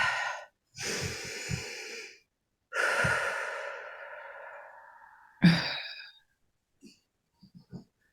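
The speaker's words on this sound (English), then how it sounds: "Take a nice deep inhale through your nose" A deep breath drawn in through the nose and let out during a calming tapping exercise, several long breathy inhales and exhales close to the microphone, alone with brief pauses between.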